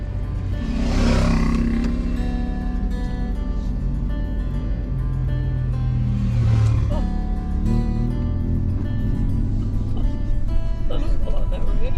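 Motorbikes pass on a Simpson Desert track, their engines swelling and fading in two distant-to-near sweeps, while people talk over the noise.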